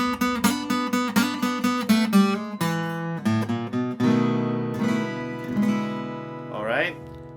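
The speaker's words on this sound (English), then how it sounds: "Lick number 2, we're going to be incorporating double stops and also sliding with the guitar" Acoustic guitar plays a blues lick in double stops, starting with quick plucked pairs of notes, then sustained slides and ringing bends, close and alone.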